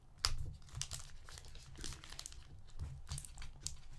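A trading card pack wrapper being torn and worked open by hand, with a close, steady run of crinkling and tearing bursts of plastic foil and no talk.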